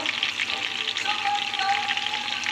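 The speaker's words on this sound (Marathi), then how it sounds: "मातशें फ्राय जावं द्या" Masala-coated mackerel (bangda) fish fries in oil, a close, steady crackling sizzle that runs unbroken through the short stretch.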